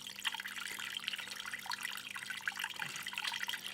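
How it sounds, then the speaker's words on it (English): Continuous hissing spray of water from a pump onto the bottom of a boat, with a bright, splashy texture, steady and fairly soft, with a faint low hum underneath. "The pump is spraying water on the bottom."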